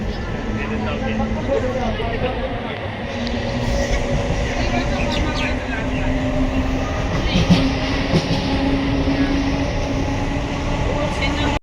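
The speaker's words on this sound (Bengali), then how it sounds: "আমাদের ট্রেন চলে এসেছে" A train rumbles and clatters steadily into Memari station, loud and continuous, with voices murmuring underneath.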